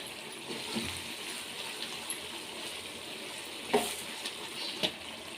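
Onions fry in a pan with a half teaspoon of turmeric powder added, giving a faint, steady sizzle up close with a few soft clicks and scrapes from stirring.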